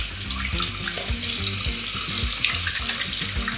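A bathroom sink tap runs while hands are washed under the stream. The close, continuous splashing and gurgling of the water is heard alone, without voices.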